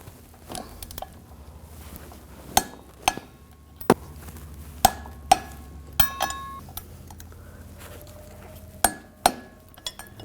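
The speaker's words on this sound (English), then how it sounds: "now I'm going to torque these to 70 foot-pounds" A torque wrench tightening the rear driveshaft coupler bolts on a 2007-2013 BMW 328i 3.0L inline-six to 70 foot-pounds, sharp metallic clicks and clinks spaced irregularly over ten seconds, close by and alone with no talking.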